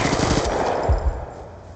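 Death Machine minigun in Black Ops 2 firing a rapid burst of shots that quickly trails off into ringing echo and low rumbling thuds.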